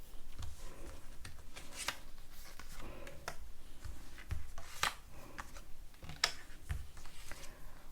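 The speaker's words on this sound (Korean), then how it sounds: "제가 좋은 카드를 좀 뽑아볼게요." Tarot cards shuffled by hand during a reading, a steady run of soft papery riffles and sharp flicks repeating for several seconds, close and fairly quiet, with no talking.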